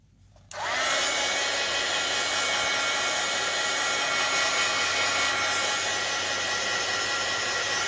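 A hair dryer clicks on after a short quiet start and blows a loud, steady whooshing roar close by while drying a collaged paper envelope, with no talking.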